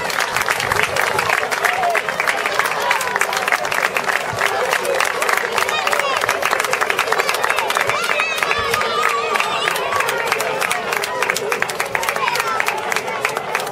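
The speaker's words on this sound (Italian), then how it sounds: "io farei un applauso all'amico Antonio Bolla" Dense, continuous applause fills a football club awards ceremony, a crowd clapping loudly and steadily for a club member with a few cheers mixed in.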